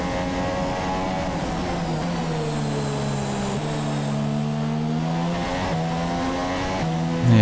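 F1 race cars accelerating in the F1 2017 video game at the Abu Dhabi Grand Prix, loud high-pitched engines rising through the gears together, a dense continuous roar with rising and falling pitch.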